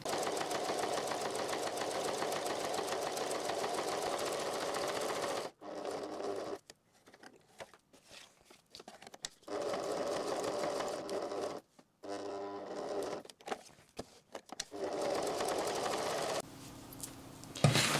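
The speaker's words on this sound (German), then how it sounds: "Was ich jetzt noch machen muss, ist einmal hier rundherum nähen und zwar mit einer ganz kleinen Stichlänge 1." Home sewing machine running a very short stitch length of 1 around a zipper pocket on a handbag, heard in steady near bursts of fast rhythmic stitching separated by brief pauses, no talk.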